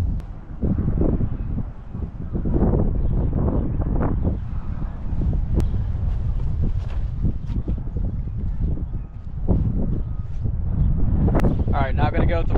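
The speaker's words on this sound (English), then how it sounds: "It is seriously so windy, the camera keeps falling over." Strong wind buffets the microphone in loud, continuous gusts, with a voice talking underneath, outdoors during disc golf throwing.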